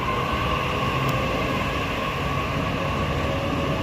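Train rumbling at a Sydney Central platform, with a steady, loud, continuous drone of rolling stock and station ambience and no voices.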